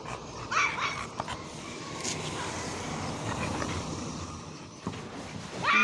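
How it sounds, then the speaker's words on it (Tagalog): Several dogs yip and bark sporadically at a distance, with whimpers mixed in over a rustling outdoor background. "Ang daming aso."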